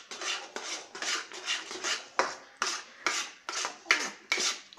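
Spoon scraping through a thickening besan (gram flour) batter in a pan for savoury barfi, a steady series of about ten rhythmic rasping strokes, close and fairly quiet, with no talking.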